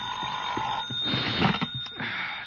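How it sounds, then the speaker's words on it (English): A telephone rings as a radio drama sound effect in the detective series Yours Truly, Johnny Dollar, an electric bell-like trill that repeats several times and is fairly loud and close, with brief breaks between the rings. "I guess I was still thinking or dreaming about it when my phone rang the next morning."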